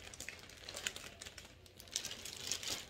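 Wrapping paper or plastic crinkles and rustles in irregular bursts of crackling close by, with no talking.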